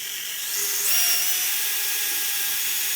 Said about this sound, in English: I stepped it up to a 7/32 drill bit. I'm going to make each of these holes larger